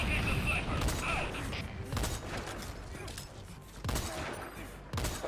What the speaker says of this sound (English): Under fire by an enemy sniper.